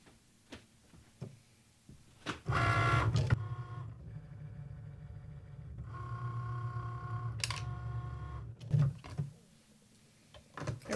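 Cricut Maker cutting machine writing with a fabric marking pen, its motors whirring in steady bursts as the carriage moves, with short mechanical clicks and whines between passes, close and fairly quiet.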